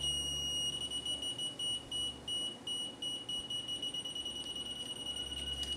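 A rudimentary synthesiser oscillator built from a single CMOS 4000 series logic chip emits a thin, steady high-pitched electronic whine with faint pulsing, quiet and alone.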